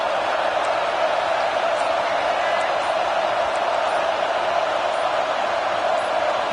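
A roaring stadium crowd in the College Football 26 video game, a steady dense wash of cheering and noise that holds at an even, loud level throughout, with no distinct voices standing out.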